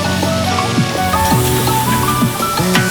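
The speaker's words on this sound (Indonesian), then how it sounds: "Masukkan ke dalam tepung terigu yang telah dicampur tepung maizena dan goreng dengan api besar." Oyster mushrooms coated in wheat flour and cornstarch batter deep-fry in hot oil over high heat, a steady hissing sizzle beneath continuous background music.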